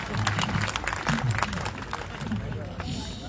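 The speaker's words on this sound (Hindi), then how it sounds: "तालियां वाली बजा दो।" Audience at a Hindi kavi sammelan comedy poetry event breaking into applause, a dense steady wash of clapping mixed with crowd babble and voices throughout.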